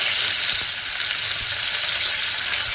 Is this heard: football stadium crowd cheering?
no